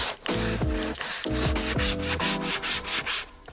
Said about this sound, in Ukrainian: зволожуємо щіточку і починаємо процедуру очистки горизонтальної частини сидіння